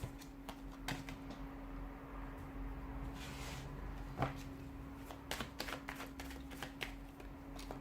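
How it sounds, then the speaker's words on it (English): Soft, close riffling and flicking of tarot cards being shuffled, in quick irregular bursts over a faint steady hum, quiet throughout. "give the cards a shuffle"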